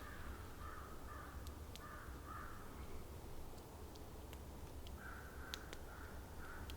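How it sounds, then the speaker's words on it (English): Crows caw in the woods, several hoarse, distant calls in loose pairs and clusters over a steady outdoor hiss, with no voices. "Just crows."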